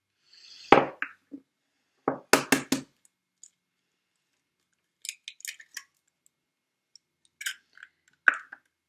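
Eggs being cracked one by one into a bowl of milk mixture for flan: a sharp crack with a wet plop, then a few quick taps and cracks, with sparse, faint shell clicks and drips in a quiet kitchen.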